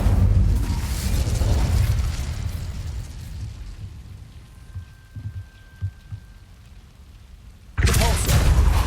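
A fire spell cast in Hogwarts Legacy: a loud whooshing, rumbling burst of flame that fades into quiet ambience with a few soft thumps, then another loud roaring surge at the end.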